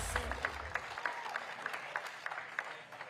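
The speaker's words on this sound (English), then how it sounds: "Round of applause for Charlie Kazzy and Joe Kara." Audience applause at a boxing weigh-in in Sydney, Australia, greeting two fighters: a steady wash of clapping with scattered sharper claps and faint voices, fairly distant and moderate in level, tapering off slightly at the end.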